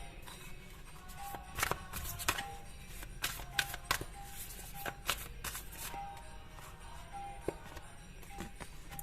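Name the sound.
tarot cards being shuffled and drawn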